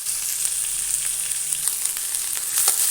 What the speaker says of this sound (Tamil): வதக்கிக்கலாம். நல்லா வதங்கட்டும்.